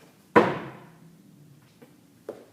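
Feet landing hard after a jump as a sharp, loud thud opens the short stretch, ringing briefly before fading into quiet, with two softer knocks following.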